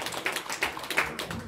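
An audience at a Saint Petersburg pop concert presentation claps in quick, uneven bursts, the applause sharp and close without any voices.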